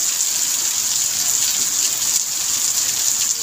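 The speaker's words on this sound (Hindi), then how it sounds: "आज बारिश हो रही है, खतरनाक गजब वाली बारिश" Steady heavy rain hisses loudly and continuously, a dense wash of drops with no voices.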